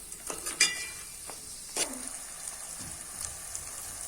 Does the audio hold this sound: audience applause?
no